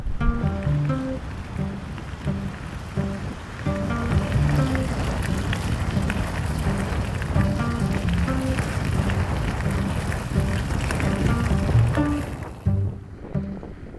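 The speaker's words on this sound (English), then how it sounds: "And now going at half the speed that I wanted to because of this wind." Strong wind blasts across an exposed high-altitude plain on a Kyrgyzstan bikepacking route, a loud continuous buffeting roar that drops away near the end.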